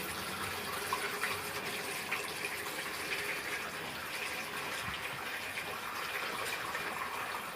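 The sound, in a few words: straining fermenting milk liquid through a sieve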